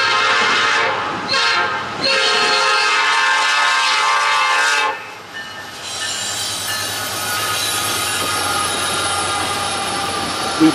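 A Norfolk Southern eastbound freight train on the Fostoria district passes close and loud on a windy day, with a blaring multi-tone horn followed by steady rumbling and squealing wheels on the rails.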